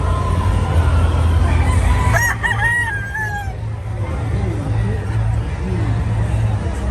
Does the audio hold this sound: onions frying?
no